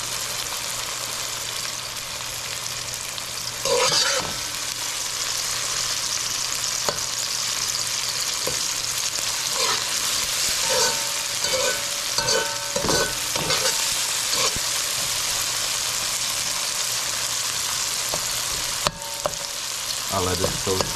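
Chopped saltfish fries in a pan with a steady, loud sizzle that runs throughout, and occasional stirring scrapes and clinks cut through it.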